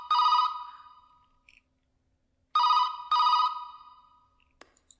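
A telephone rings inside a sold house in a horror game: three loud electronic ring bursts, the first alone and the last two close together, each fading with a short tail, separated by silence.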